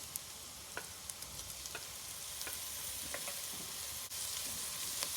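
Bacon and garlic fry in a pan while being stirred, giving a steady close sizzle with scattered crackles and a few sharp pops through the whole stretch.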